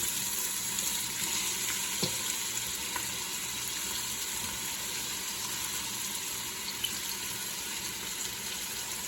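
Onions and garlic frying in a pan as the base for a seafood risotto, a steady, close sizzle with a watery, hissing texture running evenly throughout and a couple of small clicks.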